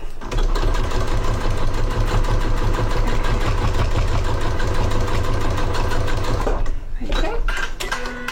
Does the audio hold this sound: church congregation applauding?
no